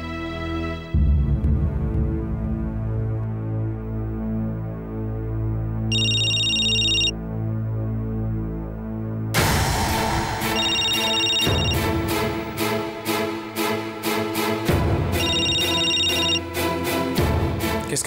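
A telephone rings in a Hindi television drama scene, its electronic ringtone repeating in bursts over low background music, loud and close without speech.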